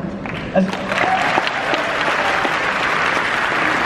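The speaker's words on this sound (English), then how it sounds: "See, you did it again. You clapped for yourself." An audience applauds during a live speech, a dense burst of clapping that swells after a brief start and stays full and close to the end.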